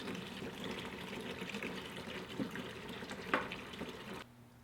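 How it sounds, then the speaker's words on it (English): Tap water is poured into a bucket with no dechlorinator added. A fairly quiet, continuous splashing rush runs for about four seconds with a few small bubbling accents, then stops abruptly. "We'll pour some water in the bucket."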